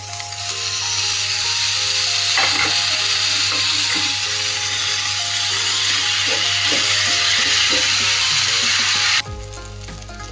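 Drained Hakka noodles tossed into a hot pan and stir-fried, giving a loud steady sizzle with scattered clinks and scrapes of stirring, alone without talk, before the frying cuts off near the end.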